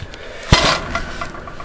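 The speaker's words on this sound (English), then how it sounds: "Got the frying pan here." A frying pan being handled gives a single sharp metallic clank, close and loud, followed by a short ringing rattle and then quiet.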